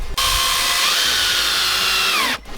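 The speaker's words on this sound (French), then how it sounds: "on va venir glisser la lame sur le clip et on viendra le visser pour le maintenir" A power drill drives screws through Cedral fibre-cement deck boards into their clips on a terrace, a loud close whine that rises in pitch as the screw seats, then stops abruptly after about two seconds.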